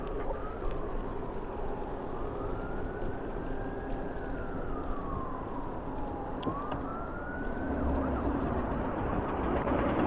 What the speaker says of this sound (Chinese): 又听到警笛声了啊！